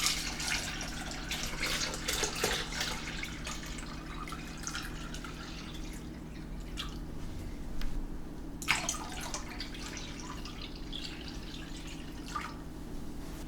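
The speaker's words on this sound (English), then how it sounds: "now we're going to cover generously with cold water" Cold water from a tap pours and splashes over dried beans set to soak for pea soup with bacon, a steady trickling and dripping stream with a few sharper splashes, fairly quiet and close.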